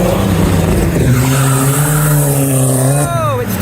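A diesel Renault car engine rumbles nearby with a steady low drone, its pitch climbing briefly near the end, as modified cars leave a car meet.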